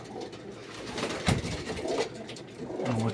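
Pigeons cooing softly nearby, low throaty calls repeating against a light outdoor background with a brief sharp knock partway through.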